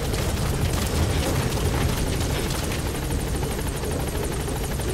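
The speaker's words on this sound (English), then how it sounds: "they're trying to shoot the helicopter." Helicopter in the video game Metal Gear Solid V: The Phantom Pain, a steady, loud rotor roar with fine rhythmic blade chop filling the whole stretch, alone without voices.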